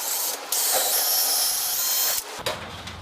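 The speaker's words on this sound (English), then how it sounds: "I'm going to drill my 1/4 inch hole to put my lag bolt into" A power drill bores a 1/4 inch hole into wood for a lag bolt, one loud sustained whirring burst of about two seconds that cuts off, with brief handling noise before and after.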